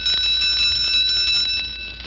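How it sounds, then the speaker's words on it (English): A school bell is whacked over and over in quick succession, producing a loud, continuous metallic ringing with rapid strikes pulsing through it for about two seconds. "Listen to her whack that bell."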